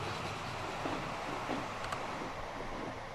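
A steam train runs on the Gotthard map during a haulage race in the game Transport Fever, a steady broad rumble with a wind-like hiss and a few faint clanks.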